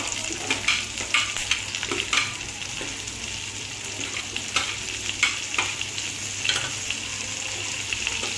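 Chopped onions and green chillies sizzle steadily in a hot pan for a home-style Shyam Savera curry, a continuous hiss with repeated scraping taps of a spoon stirring.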